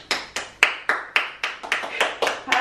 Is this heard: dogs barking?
no